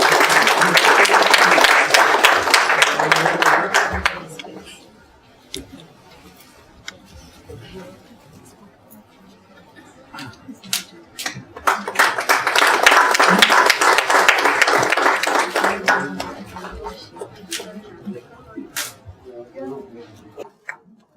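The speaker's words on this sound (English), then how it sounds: "A round of applause." Loud crowd applause rises and fades, then returns in a second strong wave of dense clapping, with scattered single claps in between.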